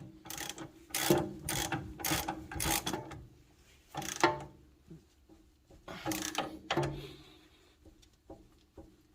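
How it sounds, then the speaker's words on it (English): Ratchet tightening the nuts and bolts on a Honda CV axle, a series of loud, close clicking bursts in uneven runs with short pauses between them. "we're gonna torque all these nuts and bolts right after"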